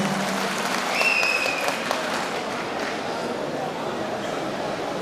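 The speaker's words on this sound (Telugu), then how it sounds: "ఏపీపీటీ ఎంప్లాయీస్ చప్పట్ల ద్వారా వారికి తెలియజేస్తా ఉన్నాను" Union employees applauding at a state transport employees' general assembly, a dense burst of hand clapping from a crowd filling the hall, with a voice over a public address system and a brief whistle-like tone early on.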